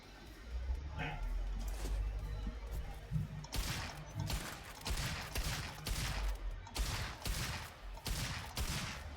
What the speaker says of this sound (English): So it's kind of like a carbine, shoots pretty quick